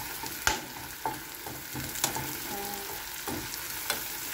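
Butter sizzles in a pan as ingredients are sautéed, a steady frying hiss broken by occasional stirring scrapes and clinks, close and clear with no talk.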